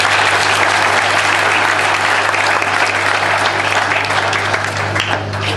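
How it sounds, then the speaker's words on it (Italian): A church congregation applauds steadily and loudly at a ceremony for the translation of remains in a religious community, the clapping continuing without pause over a low constant hum. "Un applauso."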